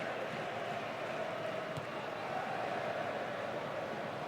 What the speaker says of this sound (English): the dummy goal kick doesn't go down well with most of the crowd